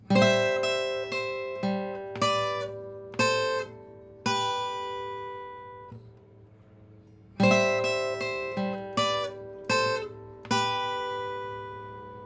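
An electric guitar plays a melodic line of paired notes in bursts, with ringing pauses between phrases, loud and alone with no talking.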